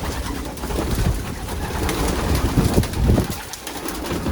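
Several pigeons coo softly and repeatedly close by inside a loft with wooden and plywood perches, with light rustling and fluttering.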